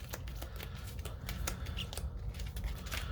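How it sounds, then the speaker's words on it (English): Playing cards from the board game Dawn of the Zeds are shuffled up close, making a continuous busy texture of rapid papery flicks and clicks for a few seconds with no talking. "And then we shuffle these up."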